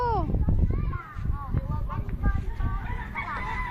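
A rooster crows in a domestic yard, its call rising over steady background chatter and children's voices, with overlapping talk throughout.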